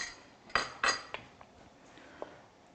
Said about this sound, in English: so now we're going to put our orange zest in our cranberry sauce